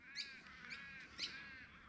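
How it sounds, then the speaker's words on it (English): Birds gather around a parked car in the outback, giving a few harsh, raspy calls close by over a faint steady background. "the birds were clamouring around my car"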